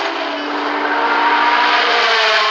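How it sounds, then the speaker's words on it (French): A Matra race car accelerates away from the pits at the 1973 24 Hours of Le Mans with a loud, sustained high-pitched engine wail that holds steady and rises slightly, with no voices over it. "C'est reparti pour la Matra de tête."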